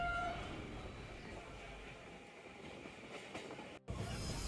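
A local train runs between stations on a busy Bangladesh–India route, its steady broadband rumble and rail noise filling the clip, with a short dropout near the end before the clatter resumes.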